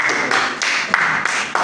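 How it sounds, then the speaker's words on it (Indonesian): Students in an eighth-grade Islamic religious education class clap for a classmate, a small group's quick, close hand claps in bursts with a few sharper accents, no talking over them. "Oke, tepuk tangan untuk kamu"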